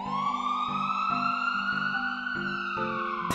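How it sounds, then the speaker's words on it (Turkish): An ambulance siren in the Minecraft video game wails loud and close in a continuous high, wavering tone for the whole stretch, with no voices over it. "Aha ambulans da geldi"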